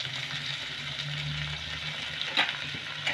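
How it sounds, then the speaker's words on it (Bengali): Finely sliced onion frying in a pan for beetroot bata, a steady close sizzle of hot oil with a low hum beneath and a couple of brief stirring scrapes near the end. "পেঁয়াজটাকে একটু লাল করে ভেজে নেব।"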